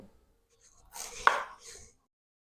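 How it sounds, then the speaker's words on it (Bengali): A knife slices through peeled beetroot on a board, a short burst of cutting with one sharper chop in the middle, close and fairly quiet. "প্রথমে আমি খুব ভালো করে বিটের খোসাটা ছাড়িয়ে বিটটা কেটে নেব।"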